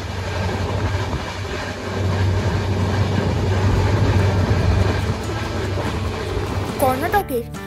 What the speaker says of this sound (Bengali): ট্রেনে উঠে গেছি।